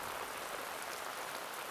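Steady rain pours onto a traditional Korean hanok house, a dense, even hiss of drops on the roof and surrounding surfaces that holds constant throughout with no voices.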